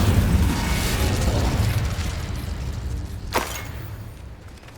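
Incendio fire spell cast in Hogwarts Legacy, a rushing, roaring burst of flame with a low rumble that swells and fades, with a sharp crackling whoosh partway through as the blaze tails off.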